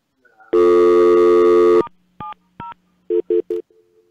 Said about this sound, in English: I got to turn down the touch tones